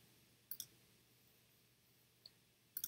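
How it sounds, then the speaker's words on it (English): Computer mouse clicking during a real estate property search, quiet isolated clicks: a double click, a single faint click, then another double click, with no talking. "I'll go ahead and start clicking on some others"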